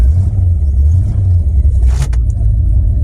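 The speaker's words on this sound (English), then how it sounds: "start this thing up" A farm truck engine with a sticking electric choke rumbles loudly and roughly at low pitch after starting, a steady idle with a brief sharp rattle near the end.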